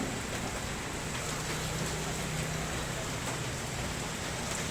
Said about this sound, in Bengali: এখন এই মুহূর্তে খুব মানে অল্প টুকটাপ টুকটাপ বৃষ্টি পড়তেছে